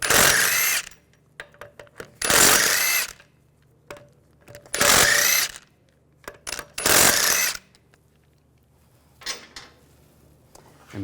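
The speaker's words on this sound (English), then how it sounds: "Take the lug bolts out." Wheel lug bolts on a 2006-2010 BMW 550i being spun out with a 17mm socket on a power tool, four loud whirring bursts of a couple of seconds each, with metallic clinks and handling clatter between, close by.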